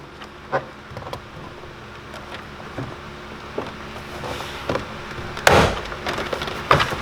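Plastic door trim clips on a Ford FG Falcon door snap loose one after another, sharp pops and cracks at irregular intervals over a low background rumble, close by.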